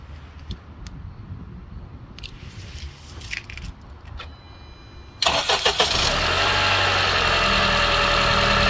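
A car engine started by remote start after a quiet stretch with a few small clicks, cranking then catching into a loud steady idle with a continuous whine from a failing power steering pump.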